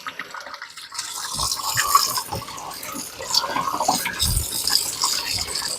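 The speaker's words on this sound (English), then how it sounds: "Turn on the cool water." Cool tap water runs steadily into a kitchen sink, splashing and gurgling close by with small shifts in the flow, no talking over it.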